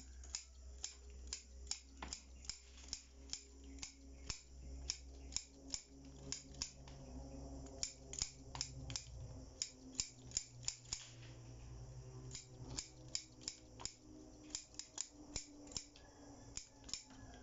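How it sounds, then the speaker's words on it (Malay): Scissors snip bougainvillea cuttings to strip their leaves, sharp close clicks repeating irregularly, sometimes in quick clusters, for the whole stretch, with no talk. "Kita potong semua dulu daunnya."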